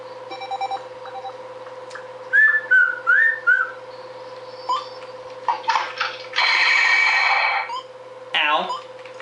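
A tune whistled as an answer in a Thanksgiving trivia game, heard in several clear bursts of melody between pauses, with a few people talking around it.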